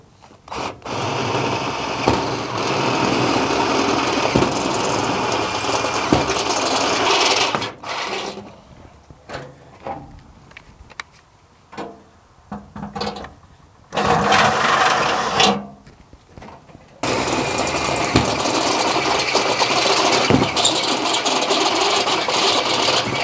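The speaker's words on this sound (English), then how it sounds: "And then we'll drill some holes real quick here." A power drill whirs loudly in bursts while drilling holes in metal, stopping and starting several times with quieter pauses between, then running steadily near the end.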